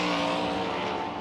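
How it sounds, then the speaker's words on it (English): Sprint car racing on a dirt speedway, a loud sustained engine roar at high revs as a car runs out of turn four, steady and continuous. "Another fast one on the racetrack now, working his way out of turn 4"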